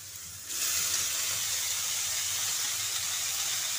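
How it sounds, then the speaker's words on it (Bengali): Chopped banana flower and soaked chickpeas frying in a pan, a loud steady sizzle and hiss that jumps in after half a second and holds close and even to the end, with no talking. "মোচাটা দিয়ে খানিকক্ষণ কষিয়ে নিচ্ছি"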